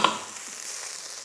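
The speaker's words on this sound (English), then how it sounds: "Once you've got a nice deep caramelization on your onions, like that" Onions caramelize in a pan with a steady, soft sizzle and frying hiss. A brief stir or clink comes at the start, and no one speaks.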